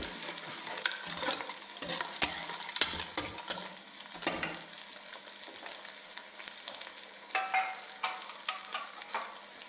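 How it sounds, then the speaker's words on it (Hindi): Ginger garlic paste frying with onions in a pan, a soft continuous sizzle broken by repeated clinks and scrapes of a spoon stirring, close and fairly quiet with no talking. "अब इसके अंदर हम ये अदरक और लहसुन का पेस्ट ये डाल देंगे। इसको अच्छी तरह भूनेंगे।"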